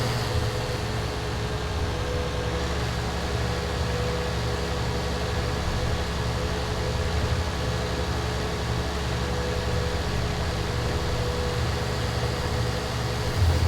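A video game tractor engine drones at low pitch, a constant mechanical hum with faint tonal whine, running evenly throughout with no talking.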